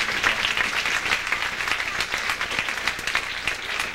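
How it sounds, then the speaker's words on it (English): Audience applause fills a school band cabaret performance, a steady wash of clapping from a crowd that holds for the full stretch without pause. "Let's give her another applause."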